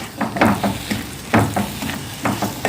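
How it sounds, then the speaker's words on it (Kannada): Semolina is stirred into boiling water in a pot over a low flame, with soft scraping, bubbling swishes in uneven strokes, close and moderately loud, and no voices. "ಕುದಿ ಬರುವಾಗ ರವೆ ಹಾಕಿ ಸಣ್ಣ ಉರಿಯಲ್ಲಿಟ್ಟು ಹೀಗೆ ಒಳ್ಳೆ ಮಿಕ್ಸ್ ಮಾಡಿಕೊಳ್ಬೇಕು"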